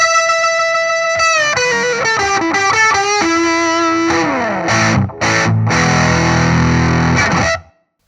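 An electric guitar played through a TC Electronic Magus Pro distortion pedal rings out loud, sustained distorted notes, then a sliding phrase and heavier chords that end with a choked-off stop.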